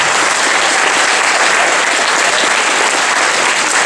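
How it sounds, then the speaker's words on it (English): Loud, dense applause fills a high school JROTC Veteran's Day ceremony hall, a steady wash of many hands clapping at once that holds without letting up for the whole stretch. "yes, give them a round of applause."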